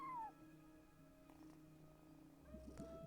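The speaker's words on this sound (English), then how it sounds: "No one except for a cat watching over the front desk." A cat at a front desk in Genshin Impact gives a short, faint meow at the start, followed by quiet background hum and soft game sounds.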